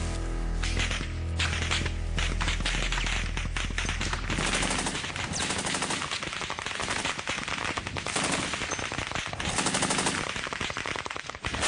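Machine-gun fire and gunshots crackle through a war-film ambush, with sustained rapid bursts and heavy low booms early on, then dense, continuous rattling volleys, loud and near, with no talking.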